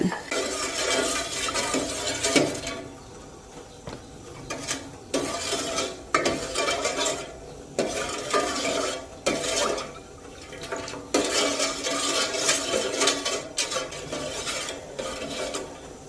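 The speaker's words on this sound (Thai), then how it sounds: "เราก็จะมาเคี่ยวน้ำซอสของเราก่อ" A pot of noodle sauce simmers while being stirred, producing bursts of scraping, clinking and bubbling that come and go in uneven waves, with brief quieter gaps between strokes.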